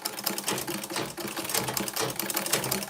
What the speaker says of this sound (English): I'm going to sew with like a quarter of an inch all around it. So first of all, back stitch